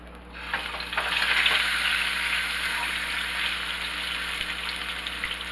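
Salmon fries in a pan with a steady, moderately loud sizzle that swells after the first second and holds evenly, with no talk.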